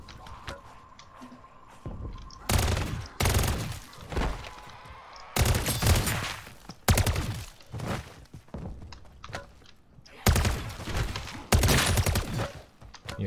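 Heavy gunfire in the MW3 Zombies video game comes in loud, repeated bursts of automatic shots, with short pauses between volleys as zombies are shot.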